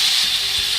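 Chopped pumpkin hits hot frying onions in a pan for an Assamese fish curry, giving a short, steady hiss of sizzling oil close by.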